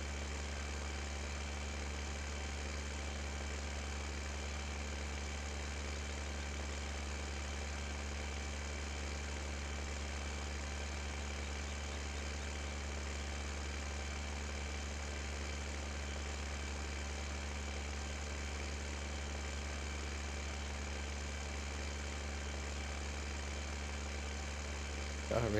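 A tractor engine in Farming Simulator 2015 idles in a steady, unbroken drone with a low hum throughout, close and even in level, with no voices.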